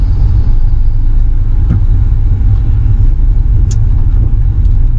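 Interior drone of a 2002 Audi TT 1.8T quattro coupe with 225 hp and six-speed manual gearbox, a loud steady low rumble of engine and road noise that holds throughout with a faint tick or two and no voices.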